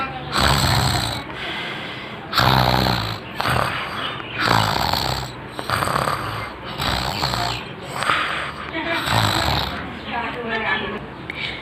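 Motu, the cartoon character, snoring loudly in deep sleep: harsh rasping snores repeating in a steady rhythm roughly every second or so, close and prominent throughout.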